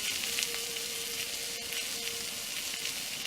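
Steak sizzling in a pan on a small camp stove, giving a steady, dense frying hiss that carries evenly throughout with faint crackles and no talk.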